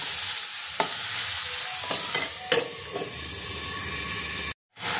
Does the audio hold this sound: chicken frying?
yes